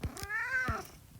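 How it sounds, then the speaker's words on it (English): A house cat gives one drawn-out meow, close and clear, with a few soft knocks around it and no talking. "Yes, that's my cat, Oreo."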